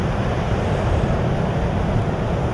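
Wind and waves roar steadily around a deep-V boat at sea near the edge of a sandbank, a dense, unbroken rushing with no voices.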